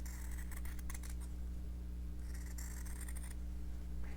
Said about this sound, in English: I'm just going to take my scissors and cut along that line that I sketched